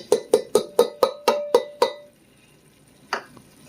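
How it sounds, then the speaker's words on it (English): Chopped onion tumbling into a pan of browning ground beef for homemade chili, a rapid series of about eight sharp clattering hits, then quiet with a faint sizzle and one more clink. "we're going to add in the cup of onion"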